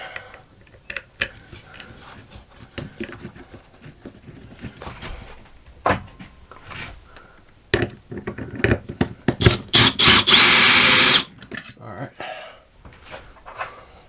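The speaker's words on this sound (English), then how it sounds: "Now we just screw the motor back to the wall" A power driver runs a lag bolt to fix a BAL Accu-Slides slide-out motor back onto the wall: scattered clicks and knocks, then a loud sustained two-second run of the driver, with voices talking around it.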